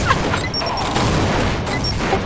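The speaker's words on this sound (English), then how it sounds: "There's just explosion." Explosions and grenade blasts in a team shooter video game pile up into a dense, continuous roar of crackling booms, loud and steady with no pauses.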